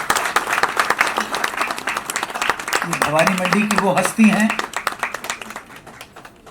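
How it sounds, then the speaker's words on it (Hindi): An audience at a book launch claps for an older guest, dense applause running under someone speaking over it, with the clapping tapering off toward the end. "ईश्वर अंकल के लिए जोरदार ताली बजाइए।"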